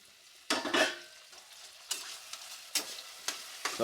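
Tomato and onion frying in a pan for sprouts pulav, with bursts of sizzling and stirring that rise and fade several times. The strongest burst comes near the start and softer scrapes follow, with no talking.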